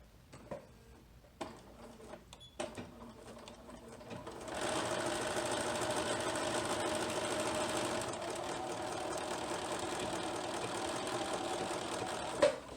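A sewing machine stitches a zipper pencil bag, with a few short bursts at first and then a steady, fast, close mechanical whirring run that continues to the end.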